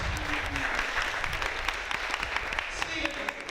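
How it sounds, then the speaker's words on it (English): Crowd applause at a live wrestling show, continuous sharp clapping across the audience, fairly close and steady, with a voice and low chatter mixed in. "Give him a round of applause."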